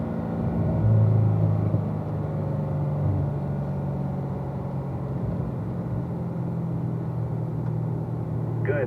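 Race car accelerating down a track straightaway, a steady low engine rumble droning throughout, slightly louder near the start, with no voices over it.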